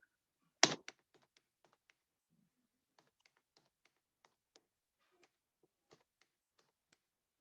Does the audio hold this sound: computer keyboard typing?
yes